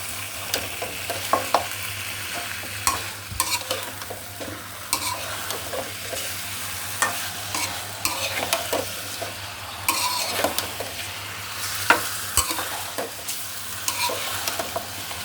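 Beef cooks with spices in a pot for Qurbani-style meat curry, giving a constant close sizzle broken by frequent scraping stirs of a utensil against the pot, with no talking.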